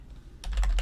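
C# code typed on a computer keyboard: after a short quiet stretch, a quick run of close, crisp keystrokes clicks out in a fast uneven rhythm.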